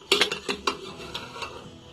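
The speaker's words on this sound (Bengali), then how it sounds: "এবার প্রেসার কুকারের ঢাকাটা খুলে নেব।" Metal lid of a pressure cooker being worked open after cooking chicken and vegetable stew, giving several close, sharp metallic clicks and clanks in quick succession, then fainter knocks as it comes free.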